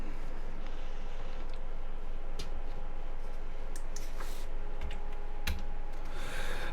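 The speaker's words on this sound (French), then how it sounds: "Je vais taper la même chose ici." Keys on a computer keyboard click in scattered bursts and single taps over a steady low room hum.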